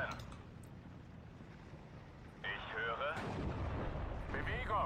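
Howitzer artillery fires in a WWII tank video game, with two heavy booming blasts in quick succession over a low rumbling battlefield backdrop.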